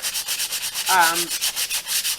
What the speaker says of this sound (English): You sand everything